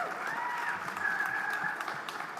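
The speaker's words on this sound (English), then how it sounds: "Give it a round of applause for Vanessa as well." An audience applauds at an Oxford Africa conference panel, a steady wash of moderate clapping that holds evenly for a couple of seconds, with a faint voice briefly heard through it.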